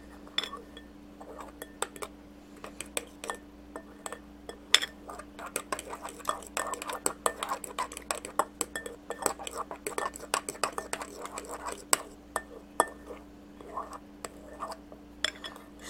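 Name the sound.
fork clinking in a bowl while mixing eggs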